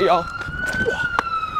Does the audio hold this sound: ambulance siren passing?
yes